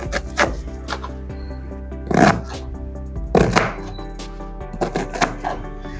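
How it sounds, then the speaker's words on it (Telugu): Knife finely chopping two onions on a board for egg bajji, close rhythmic taps in quick bursts separated by short pauses, loud and clear with no talking. "ఇప్పుడు ఈ 2 ఆనియన్స్ని సన్న కట్ చేయాలి."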